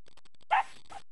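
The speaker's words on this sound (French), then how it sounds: "Donc voilà les toutous, Kaya, Neinoshka, Balissan, Isabelle Salapun" A sled dog gives a single short, close whine or yelp before a run, preceded by faint rhythmic rustling.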